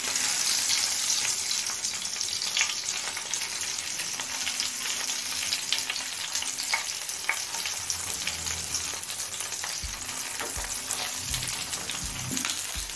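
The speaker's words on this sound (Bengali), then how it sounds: "কালো জিরেটা ভাজা হলে এবার দিয়ে দিচ্ছি ডিমগুলো" Eggs fry in a pan with nigella seeds, giving a steady, close crackling sizzle throughout, with a few soft low knocks near the end and no talking.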